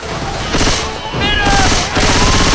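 Sustained video game gunfire, loud bursts of rapid shots in two waves with a short lull between, mixed with players shouting over the shooting.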